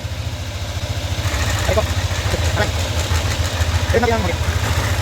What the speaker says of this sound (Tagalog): Okay, so yun yung tunog ng makina ni sir bago namin ginawa to.